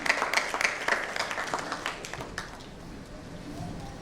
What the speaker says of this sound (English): Let's have a nice round of applause for them, ladies and gentlemen